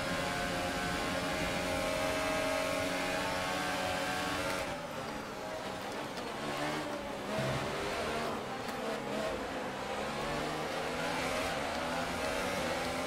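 An F1 race car in the F1 2018 video game roars past, a loud high engine whine that holds steady and then drops in pitch as it passes, with other engine noise continuing behind it.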